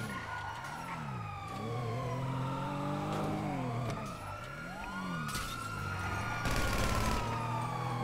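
Police sirens in a video game wail in repeated rising and falling sweeps while car engines rev and pass, the sirens growing and shifting as the vehicles approach, with bursts of noisy clatter near the end.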